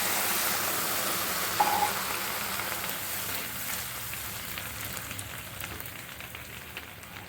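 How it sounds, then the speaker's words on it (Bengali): Water from boiling drumsticks is poured into a pot of drumstick soup. A close, continuous splashing pour is loudest at first and then tapers off gradually. "এবার সজনা ডাঁটা সেদ্ধ করা জলটা দেবো।"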